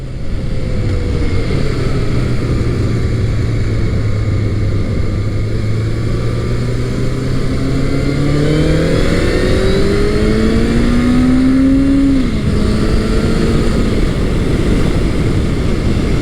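A Honda CB750 Nighthawk 750cc motorcycle engine, heard while riding, climbs steadily through the revs with rising harmonic whine, loud and continuous, with no speech.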